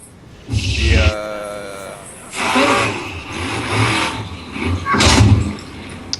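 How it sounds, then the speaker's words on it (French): In the video game Borderlands, a small car drives past, its engine surging and revving in a few bursts nearby, with someone talking over it. "j'ai été interrompu par une petite bagnole qui passait par là"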